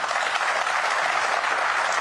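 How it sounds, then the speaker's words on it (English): Steady, dense clapping from a snooker crowd at the World Masters of Snooker 2024 quarter-final, loud and continuous throughout with no voices over it. "Round of applause, it seems, for the. Yeah technology."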